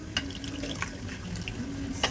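Some water is poured off while making tomato soup, a faint, trickling splash into a container in a kitchen, with a few small clinks and drips along the way.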